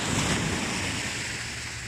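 Sea waves at a beach in La Union, a continuous broad wash of surf with wind buffeting the microphone, loud and steady for the whole moment.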